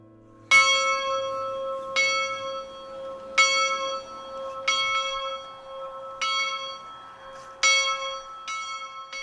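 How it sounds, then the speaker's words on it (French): A church bell at Cerisy tolls repeatedly at a slow, even pace, each ringing strike leaving a long resonant hum that fades before the next. "Les heures ne figurent nulle part, mais il y a des cloches."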